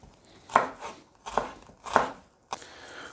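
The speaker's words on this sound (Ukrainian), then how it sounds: "Цибулю нарізаємо дуже-дуже дуже тонкими півкільцями." A kitchen knife cuts an onion into very thin half-rings on a board, four crisp chopping strokes at an even, unhurried pace, close and clear with no talk.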